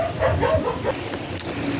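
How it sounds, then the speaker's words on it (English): Dogs bark and yip a few times indoors, muffled and moderately distant, the short barks overlapping a low background hum. "my dogs were barking"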